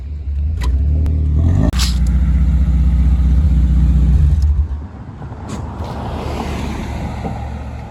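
A BMW 540i passes close by while parking, its engine loud and steady for about four seconds before the sound drops away to quieter road and ambient noise.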